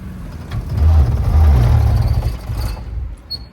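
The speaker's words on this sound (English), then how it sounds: "this sounds like a broken car." A car engine that sounds broken runs with a loud, close, rough low rumble that swells and holds, uneven and grinding, then eases slightly toward the end.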